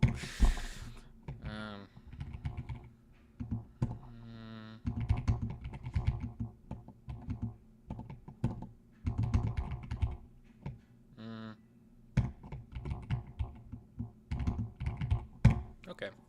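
Clicky, uneven typing on a new computer keyboard, a quiet run of keystrokes broken by short pauses, with a person talking over much of it.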